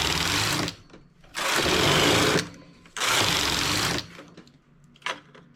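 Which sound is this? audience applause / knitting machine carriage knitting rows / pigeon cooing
knitting machine carriage knitting rows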